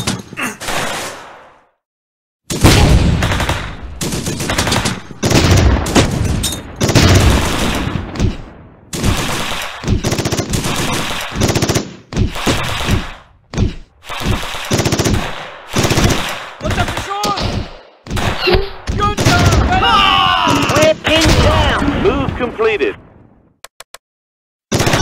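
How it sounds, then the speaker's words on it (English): Heavy machine-gun fire and rifle shots in the war game Close Combat, loud and near in dense, rapid bursts, with short gaps and shouted voices. "We're under heavy fire!"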